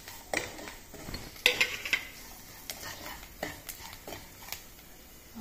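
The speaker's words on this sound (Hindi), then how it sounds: "देखो अब मैं इसमें मूँगफली और डाल देती हूँ" Peanuts go into a pan of tempering for lemon rice, giving scattered light clinks and scraping stir sounds with a soft sizzle underneath, in a quiet home kitchen.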